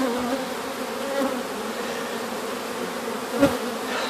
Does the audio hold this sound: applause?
no